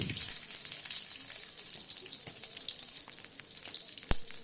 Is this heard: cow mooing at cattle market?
no